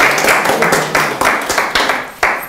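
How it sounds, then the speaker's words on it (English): A small gallery audience claps together in a warm round of applause, dense overlapping hand claps with a few sharper accents, fairly close and steady for a couple of seconds. "let's have a round of applause for my wife, Jackie"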